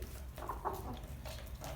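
Soft, scattered clucks from a rooster with low farmyard rumble beneath, a few short calls spread across the moment.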